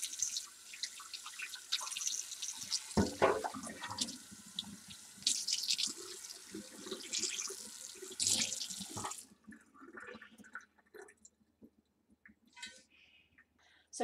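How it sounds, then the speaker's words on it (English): Running water from a tap rinses a cast iron pan front and back, with splashing and spattering for about nine seconds, then the flow stops and scattered drips follow. "once it seems scrubbed and nice and smooth, you just rinse it off"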